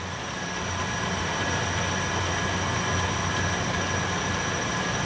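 A Vectrax 11-inch by 18-inch variable speed toolroom lathe runs its power feed on the compound, giving a steady motor hum with a constant whine. It stays even and unbroken from start to end, with no talk.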